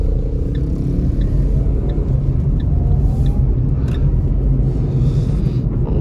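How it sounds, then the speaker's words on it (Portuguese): Renault Kwid driving along a road, heard from inside as a loud, steady low engine and tire rumble that holds constant throughout with no talk. "Vamos pegar uma estradinha aqui pra ver o que eu acho do Renault Kwid"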